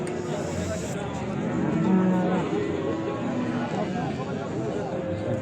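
Cattle moo at a busy livestock market selling bulls, cows and heifers, a couple of low drawn-out calls heard nearby amid crowd chatter and people talking.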